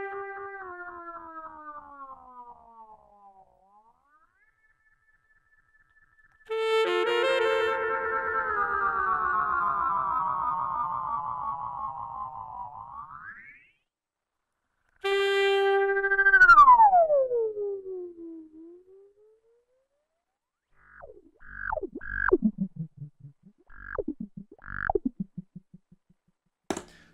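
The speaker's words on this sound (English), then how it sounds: "You can manipulate the speed of the delays in real time with the delay knob and create some pretty crazy sounds." Saxophone tones fed through an MXR Carbon Copy analog delay, with the delay speed swept in real time so repeats bend and pitch-slide up and down in long swooping runs, ending in a flurry of short chirping repeats.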